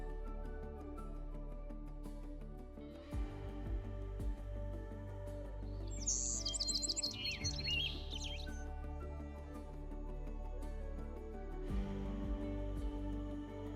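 A small creature in the video game Love and Deepspace gives a brief burst of high chirps and squeaks midway, heard over a soft, sustained musical backdrop.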